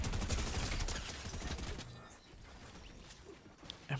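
Rapid bursts of gunfire from a drum shotgun in a battle-royale style video game, loud and dense for the first two seconds and then thinning into scattered, quieter shots and game noise.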